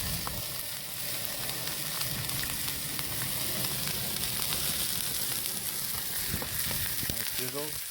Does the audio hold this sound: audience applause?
no